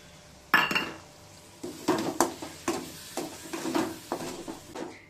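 A spoon scrapes and clinks against a pot while stirring a prawn curry with freshly added tomato juice, giving a string of irregular stirring knocks over a soft simmering sizzle.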